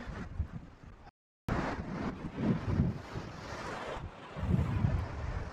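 Gusty wind from Hurricane Kirk buffets the microphone outdoors in central Portugal in loud rumbling bursts, with a brief dropout of silence near the start.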